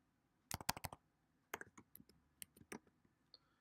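Someone types on a computer keyboard at a desk while coding, with a quick burst of clustered key clicks followed by more scattered, irregular taps, close and crisp against a quiet room.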